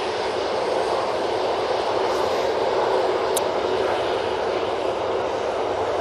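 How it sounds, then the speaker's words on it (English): Ryanair Boeing 737-800 jet arriving from Dublin at Manchester Airport, a broad steady roar of engine noise holding at constant loudness throughout, no talk. "Next in, we've got the Ryanair from Dublin using the 737-800 for that flight."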